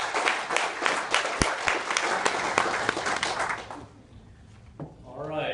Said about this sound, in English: Give him a round of applause for being here tonight